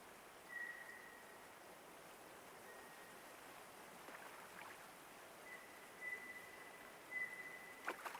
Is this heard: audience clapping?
no